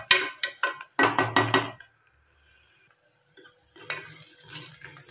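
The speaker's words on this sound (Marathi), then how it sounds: "कुकरमध्ये मी 2 पळी तेल टाकलेलं आहे पावभाजीसाठी आणि कांदा घेतलेला होता वाटीभर, तो टाकलेला आहे" A bowl of chopped onion fries in about two ladles of oil inside a pressure cooker for pav bhaji, with a series of quick scraping stirs against the metal pot followed by a faint, soft sizzle.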